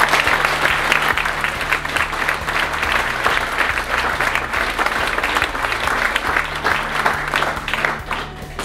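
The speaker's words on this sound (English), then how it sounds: "Can we give them all a round of applause," A large audience at a High Sheriff declaration ceremony in the West Midlands claps loudly and continuously, a dense steady wash of applause that fades slightly toward the end.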